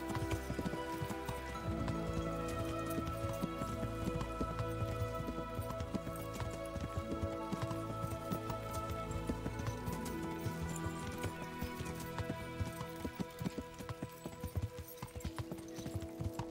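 Hooves clip-clop steadily as a horse is ridden in the medieval game Kingdom Come: Deliverance, an even trotting rhythm running through the whole stretch over a soft rain-like ambient bed.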